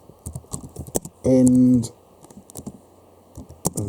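Keys clatter in quick irregular bursts on a computer keyboard, close and fairly soft, with a voice speaking briefly over the tapping and a short loud hum cutting in partway.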